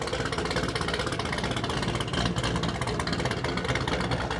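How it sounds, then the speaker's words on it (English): A loud GPI 416 Camaro idles while warming up, a dense, steady rumbling engine drone with a rough, lopey texture, close and continuous throughout with no talking. "I wanted to get the Camaro started and warmed up before all my neighbors go to sleep because it is quite loud"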